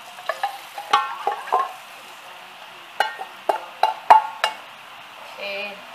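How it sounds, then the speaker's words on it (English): Pancake batter of flour, milk and melted butter being mixed in a bowl, close clattering taps and scrapes of the utensil in quick bursts separated by short pauses. "Okay, mix everything nicely. You know, incorporate all the butter in the flour."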